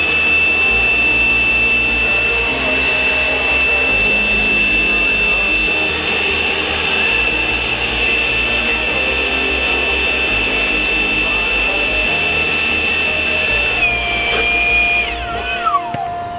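A Milwaukee M18 Fuel cordless leaf blower runs at a steady high-pitched whine with a constant airy roar, loud and close, then its motor pitch drops away as it winds down near the end.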